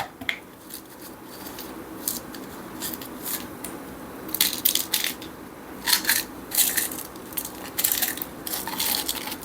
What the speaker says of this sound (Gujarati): કોપર હું નાખી દઉં પેલામાં કસ્તરીમાં